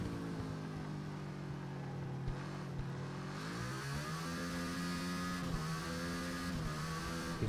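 A motorcycle in the TT Isle of Man racing game accelerates hard. The engine whine climbs and shifts pitch through the gears over several seconds, steady and continuous with no talk.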